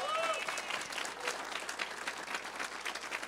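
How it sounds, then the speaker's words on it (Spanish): An audience applauds steadily, a dense wash of many hands clapping that carries on throughout without pause. "Dense un aplauso a todos"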